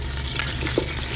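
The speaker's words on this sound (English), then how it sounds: "now we're hearing that nice sizzle from the vegetables that are browning" Vegetables sizzle and brown in a hot pan, with a steady crackle running throughout and a brief scrape of stirring partway in.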